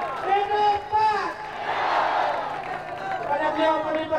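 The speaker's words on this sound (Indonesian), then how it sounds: "Tepuk tangan, sambutan buat Bapak Ain Fatwa" A rally crowd at a 1999 PAN party campaign event at Monas in Jakarta cheers and applauds, a broad roar of claps and shouts swelling in the middle, with voices calling out over it.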